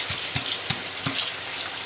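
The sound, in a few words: water running from kitchen faucet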